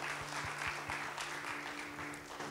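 A congregation in a church applauds, a steady patter of clapping hands that stays faint and distant throughout, with no voices over it.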